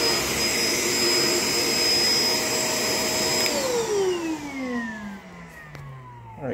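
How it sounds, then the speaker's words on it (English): A Shark LA702 Lift-Away vacuum cleaner runs loud and close with a steady high whine, then powers down, its pitch sliding lower over the last few seconds. "look at how well this vacuum works."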